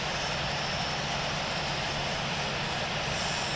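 Simulated United Airlines Boeing 737-700 jet engines taxiing in the Infinite Flight game, a steady broadband whine and rumble holding at an even level throughout with no talking.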